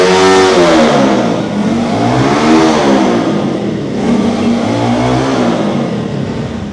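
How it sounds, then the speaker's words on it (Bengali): A Yamaha Fazer version 2 motorcycle engine revs hard up close, rising and falling in loud repeated surges over a rough idle. "যদি ইঞ্জিন স্টার্ট দিয়ে সাউন্ডে কেউ গাফলতি ধরতে পারে যে সাউন্ডের সমস্যা আছে, গাড়ি মাগনা।"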